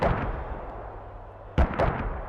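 Mortar rounds fire in the military shooter Squad, one heavy thump at the start and another sharp close blast near the end, with low rumbling battlefield noise between them.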